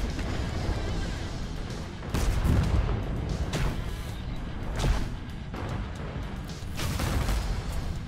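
Cannon fire and explosions from the airship battle game Cloud Pirates: heavy booming blasts at irregular intervals over a constant low rumble of battle noise, with louder bursts landing close together.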